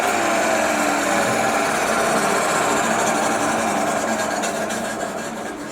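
A vintage Stanko 1a616 lathe runs with a loud, steady mechanical whir and gear hum, holding constant before easing slightly toward the end, with no voices.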